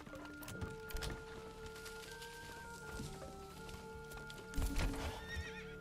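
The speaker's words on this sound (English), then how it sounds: "Just gone and ordered a horse." In the medieval city-building game Manor Lords, a horse gives a couple of clear whinnies while hooves clip-clop nearby, set against faint ambient game music.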